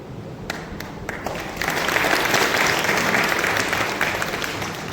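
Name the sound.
audience clapping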